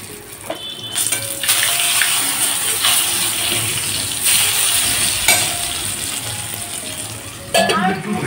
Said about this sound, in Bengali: ঝিঙে আলু পোস্তটা কিন্তু মোটামুটি ভাজা ভাজা হয়ে গেছে